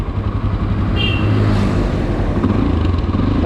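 A Mahindra Mojo motorcycle with a dB killer fitted in its exhaust idles and burbles up close, a steady loud throb with slight revving and no talk.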